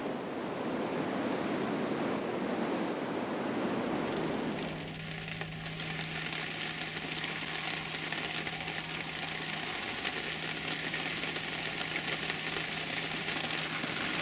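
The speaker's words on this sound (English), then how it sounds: "As you can hear, it's absolutely tippling down" Heavy rain pours down on the northeast coast of Scotland in wet, windy weather, a dense continuous hiss with wind buffeting, joined midway by a steady low engine-like hum, with no voices.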